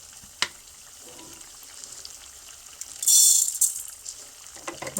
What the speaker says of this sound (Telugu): నేను ఏం చేస్తానంటే ధనియాలు వేయించుకుంటాను